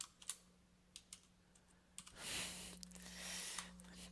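Quick, light taps of someone typing on a computer keyboard, scattered irregular clicks with a brief denser flurry near the middle, over a faint steady hum, close and quiet.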